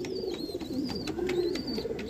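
An Andhra pigeon coos in low repeated murmuring phrases close by, with faint background chirps and a few clicks. No one speaks.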